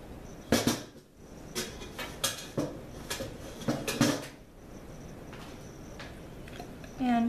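Metal pan clatter and scraping as a homemade organic BBQ chicken pan pizza is pried from its oiled, cornmeal-dusted pan, with a series of sharp knocks and clanks, then quieter handling, close by in a kitchen.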